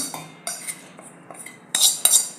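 A spoon clinks and scrapes against metal vessels while transferring cooked masala into a mixer jar, a series of sharp taps and rattles, close and clear.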